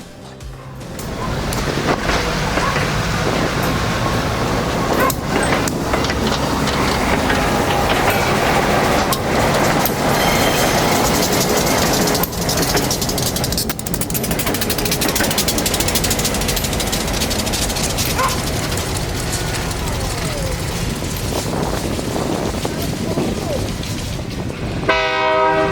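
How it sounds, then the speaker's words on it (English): WNY&P diesel locomotives rumble along rusted rails near Keating Summit, a steady heavy engine drone and rolling wheel noise lasting throughout, loud and close, with a brief horn-like tone near the end. "The WNYP locomotives would then head back north to Olean Light Power after a brief crew"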